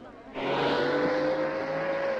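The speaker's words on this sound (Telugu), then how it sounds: "డైరెక్టర్ గారు, కారు వచ్చేస్తుంది." A car rushes in during an old Telugu movie scene, a sudden loud engine roar that swells and holds steady with a whining tone, close and dominant over faint background voices.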